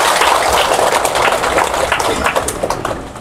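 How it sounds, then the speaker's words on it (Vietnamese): Applause for a patient who has completed cancer treatment, a loud, close burst of many hands clapping that runs steadily and tapers slightly toward the end. "Mình phải vỗ vàng vỗ tay cho bệnh nhân này đi chứ."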